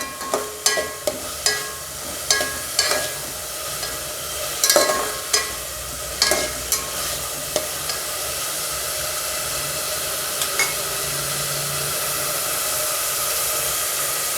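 Vegetables for pulao sautéing in a pan, a steady sizzling hiss punctuated by a series of scraping stirring knocks early on, then settling into continuous frying noise.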